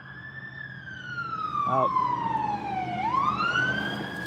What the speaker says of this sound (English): It's just the ambulance going by